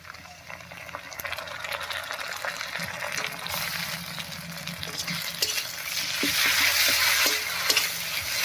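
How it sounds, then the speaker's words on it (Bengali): Pastes of dried chilli, coriander, ginger, garlic and cumin fry with browned onions in a pan for a Bengali ritha fish curry: a steady, close sizzle with scraping and stirring that grows a little louder toward the end. "মশলাগুলো দিয়ে একটু নাড়িয়ে নিয়েছি"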